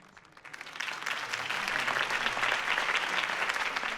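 Crowd applause from the Batman Telltale Series video game, following Harvey Dent's campaign speech; steady, dense clapping swells in after a quiet start and holds at a full, even level to the end.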